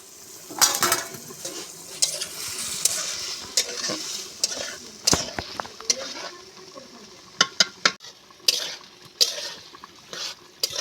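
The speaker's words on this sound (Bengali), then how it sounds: "ঢাকনা খুলে এবার আমি ডালটা কষিয়ে নেব।" Boiled lentils are stirred and fried in a pan for a jute-leaf dal dish, with repeated metal scrapes and clinks of a utensil against the pan over a soft, steady sizzle, close up with no talk.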